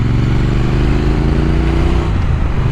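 A 2024 Triumph Speed Twin 900 motorcycle being ridden, its twin-cylinder engine droning loud and close with a steady low throb and a slight shift in pitch near the end.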